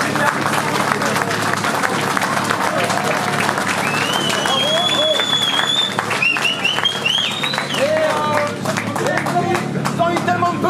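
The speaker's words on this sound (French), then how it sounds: "Vous pouvez tous vous applaudir." Crowd at a motorcycle rally protest applauding and cheering, steady dense clapping with whistles and shouts over outdoor hubbub, close and loud throughout.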